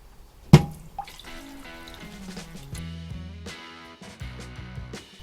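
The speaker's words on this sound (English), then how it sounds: "Then I'm going to fill it up with water." Water runs from a tap into a saucepan of apple and pear peelings, opening with a splash and drips before a steady gurgling fill with shifting ringing tones as the pan fills.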